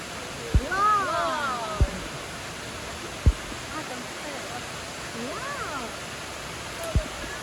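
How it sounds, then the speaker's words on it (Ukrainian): Steady broadband rush of a waterfall filling the background, with a few sharp clicks and distant voices and bird-like chirps over it. "Водоспад"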